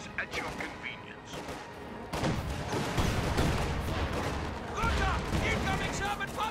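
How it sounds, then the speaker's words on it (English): A World War II strategy game battle with Sherman and Panzer tanks rumbles with dense tank cannon blasts and gunfire, thumping booms layered over continuous crackling shots. A voice talks over the fighting. "Incoming Sherman Panzer fire!"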